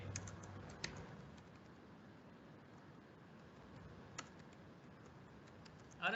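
Quiet, distant typing on a computer keyboard, faint soft clicks ticking over a low room hiss, with a slightly louder keystroke now and then and a sharper click at the end.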